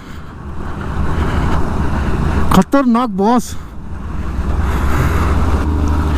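Snowmelt water rushing down a mountainside at Zojila Pass in Ladakh makes a steady, full roar that runs throughout, broken briefly midway by a short spoken exclamation.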